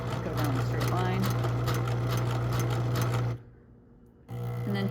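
A sewing machine stitches ribbon onto a fabric star ornament, a fast steady mechanical whir with a rapid needle rhythm, running loud and close, stopping briefly near the end and then starting again.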